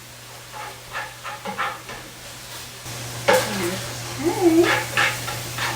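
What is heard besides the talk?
ground beef and sausage frying in a pot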